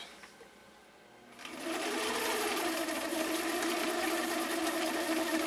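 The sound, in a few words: Husqvarna Viking 6370 sewing machine stitching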